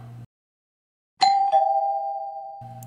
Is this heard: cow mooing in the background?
no